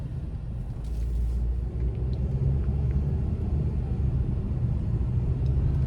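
A 2016 Dodge Journey Crossroad Plus SUV's 2.4-liter four-cylinder engine, paired with a four-speed gearbox, hums as a steady low rumble from inside the cabin while driving, with constant road noise and no talk.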